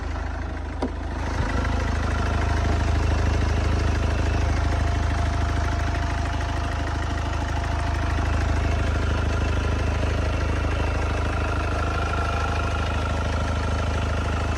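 A 2008 Kia Ceed 1.6 diesel engine runs at a steady idle, with an even low rumble and a diesel clatter that sound close and continuous after a brief start.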